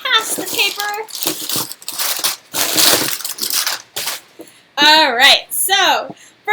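Packing paper crinkles and crunches loudly in close bursts while a book delivery is unboxed, the rustling alternating with voices talking, including a child.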